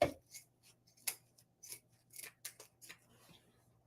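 Scissors snip through fabric for a tote bag, a series of quiet, close crisp cuts spaced irregularly.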